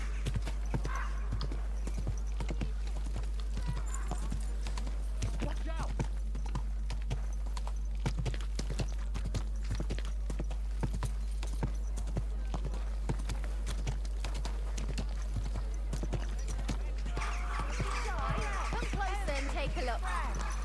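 Horse hooves clip-clop steadily in the medieval open-world game Kingdom Come: Deliverance 2, with a brief whinny and background ambience, while someone talks over it.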